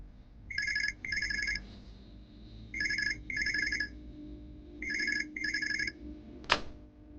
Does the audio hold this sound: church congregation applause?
no